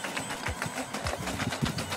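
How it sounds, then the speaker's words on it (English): A small motor whirs close by with a fast, rhythmic chopping pulse, like a little 3D-printed model boat propeller churning through water. "You can definitely tell it's chopping water, though."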